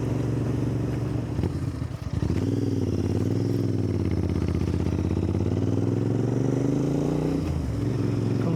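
A Honda Interceptor motorcycle heard while riding, its engine a steady, loud drone that dips briefly, then climbs and holds in a smooth rising pitch under rushing wind.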